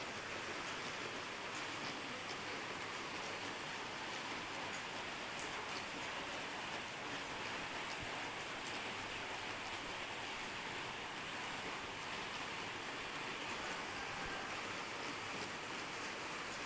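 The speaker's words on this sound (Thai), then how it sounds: "ฝนก็ยังไม่หยุดตกเลยนะคะ" Steady, heavy rain pours down during flooding in Mae Sai, Thailand, a dense continuous hiss with no voices, like a downpour drumming on surfaces outdoors.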